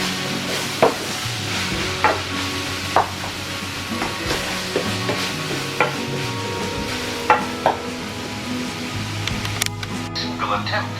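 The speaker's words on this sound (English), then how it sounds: "I'm just making like a little stir fry with these little onions and the cabbage that I got from the garden" Onions and garden cabbage stir-frying in a pan, a steady close sizzle broken by sharp scrapes and clacks of a utensil stirring every second or so, with a voice talking over it.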